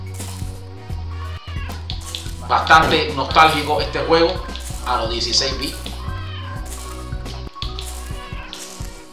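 Cat meows come from the 16-bit retro platform video game Kitten Island, heard over chiptune background music. Someone talks over most of the game sound.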